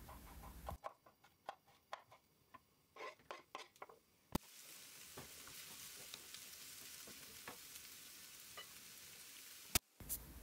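Large chopped dried onions, dropped into a pan of oil, crackle in scattered bursts with sharp clinks of a stirring utensil, then settle into a soft, steady sizzle that stays faint and close.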